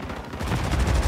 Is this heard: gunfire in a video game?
yes